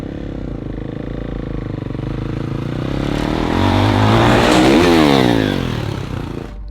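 A dirt bike engine on a ramp course revs up loud and close, the pitch climbing to a strong peak before easing back, with a rough, steady engine drone underneath.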